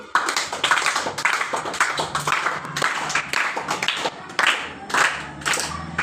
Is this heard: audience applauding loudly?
yes